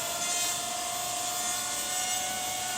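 A Spidex 3D quadcopter hovers, giving a steady, even motor buzz with a thin whine running through it, moderately quiet and unchanging throughout, with no talk.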